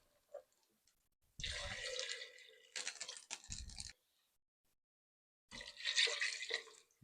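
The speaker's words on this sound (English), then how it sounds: "So we're just going to slowly pour it in there." Beef broth mixed with Worcestershire sauce is poured slowly into a pan to deglaze it. It makes a splashing, sizzling stream in a few separate pours, close by and with no talking.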